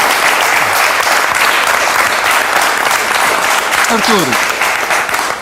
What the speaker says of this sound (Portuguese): Um aplauso para o Artur Agostinho.